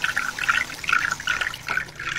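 A voice imitates river water flowing after rain, producing bubbly, gurgling mouth sounds in short repeated bursts.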